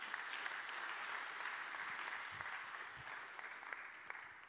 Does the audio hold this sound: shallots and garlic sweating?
no